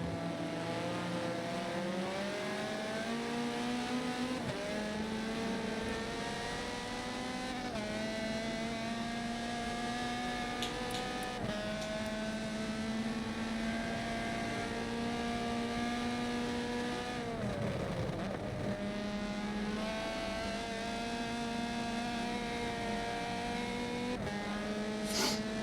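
GT race cars overtaking during a 12-hour endurance race at Silverstone in a racing game, with a steady droning engine roar and shifting pitch as cars change gear and pass, fairly quiet throughout.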